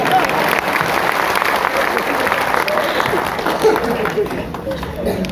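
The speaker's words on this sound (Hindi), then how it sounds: "ताली बजा दीजिए आप" An audience at a railway employees' association gathering breaks into loud, sustained applause, a dense crowd of clapping hands with some murmured voices mixed underneath, close and steady throughout.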